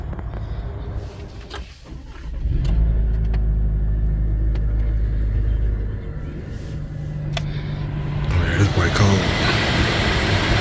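A car starts and pulls out toward a parking spot at a vehicle auction lot, with a steady low engine rumble that holds for several seconds, then shifts and continues under brighter noise near the end.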